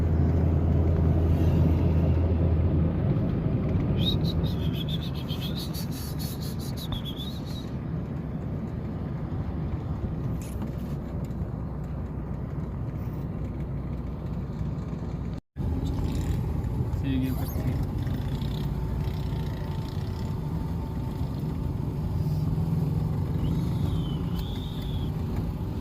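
A diesel vehicle with a crankshaft bearing and connecting rod fault drones steadily while driving, the loud low engine and road noise continuous throughout, with someone talking in Hindi over it.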